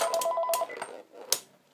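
A telephone rings indoors with short, bright electronic tone bursts, then a pause and one more sharp burst, moderately close and heard alone.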